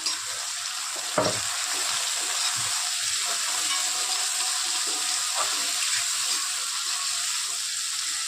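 Tomato, onion and green chillies sauté in a pan with a steady, moderate hiss, and a single sharp utensil knock comes early on.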